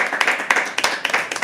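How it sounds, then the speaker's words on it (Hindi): Audience at a live poetry open mic bursts into brisk applause, a close, dense patter of many hands clapping in uneven bursts, with no talking. "भाई ताली बनती है यार ये तो"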